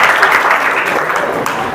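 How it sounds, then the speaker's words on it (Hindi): Indoor audience at a coaching class breaking into loud, dense clapping that stays steady throughout, close and enthusiastic. "इनके लिए जोरदार तालियां।"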